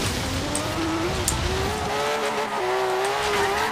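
A Porsche driven off-road through fields in the racing game Forza Horizon 3 gives a loud, steady engine drone that rises in pitch as it accelerates, with some tyre noise and no talking over it.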